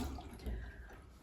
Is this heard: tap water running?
yes